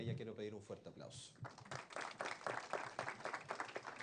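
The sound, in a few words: audience applause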